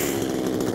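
An Echo CS-2511TES petrol chainsaw runs just after starting, a loud steady buzzing engine drone heard close up with no voices.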